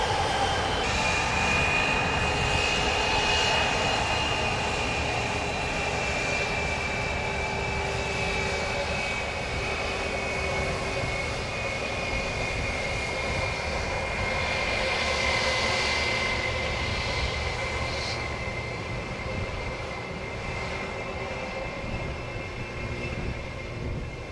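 A jet airliner climbing away after takeoff from Montego Bay, Jamaica, a loud steady engine roar with a high whine sustained throughout, slowly fading toward the end.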